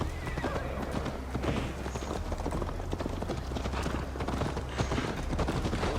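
Horse hooves clip-clop in a fast, steady galloping rhythm in Assassin's Creed Valhalla, with an occasional neigh, close and prominent over a low background bed, with no voices.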